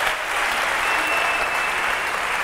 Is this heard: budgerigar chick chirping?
no